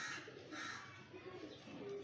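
Soft cooing of a pigeon nearby, a couple of low murmured calls against faint background noise.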